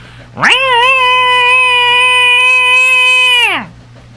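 A person imitates a howling cat, giving one loud, sustained, wavering yowl that rises, holds steady for about three seconds, then drops away, close and alone.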